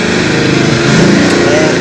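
A Honda Tiger motorcycle engine revs loud and close in a continuous buzzing drone, the pitch climbing slightly near the end.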